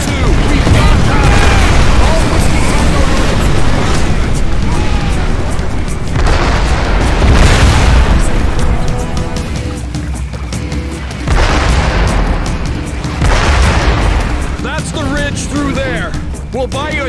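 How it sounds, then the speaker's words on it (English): Mortar explosions in the video game Crysis Warhead, several heavy booms rolling out in a steady battle din of gunfire and machinery, with game soldiers' voices talking over the noise. "Mortars!"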